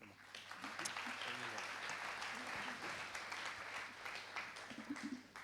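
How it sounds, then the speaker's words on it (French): Faint, steady applause from an evening awards-ceremony audience fills the room, with scattered voices murmuring over the clapping. "On vous applaudit."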